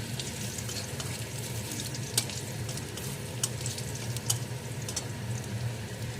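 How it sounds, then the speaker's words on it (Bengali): Nigella seeds, dried chilli and garlic fry in oil, giving a steady soft sizzle with occasional light pops and faint stirring scrapes, close and moderately quiet with no talk. "কালো জিরা রসুনটা ভাজা হোক"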